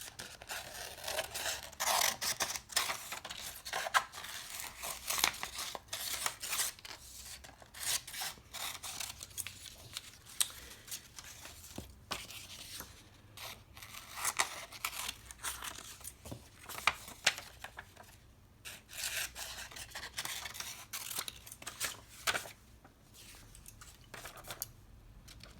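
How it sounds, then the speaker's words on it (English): Scissors cut around paper drawings of cats, giving a long run of close dry snips and rasping paper rubs at a steady working pace without talk. "so I'm just going to first cut around them so I'm not dealing with such big pieces of paper."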